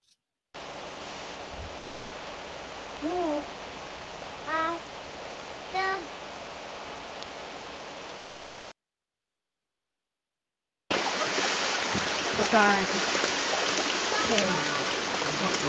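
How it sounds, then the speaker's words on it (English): An AI-generated river sound: a steady rushing wash of flowing water with a few brief higher tones over it, a gap of silence, then the rushing water returns louder. "The prompt said that it's a river that ends with a kid's sound."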